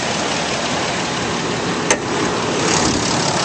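A 2011 Dodge Ram 2500 pickup truck engine idles smoothly and steadily, a constant broadband rumble with one brief click partway through and no speech.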